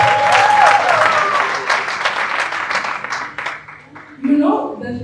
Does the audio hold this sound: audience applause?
yes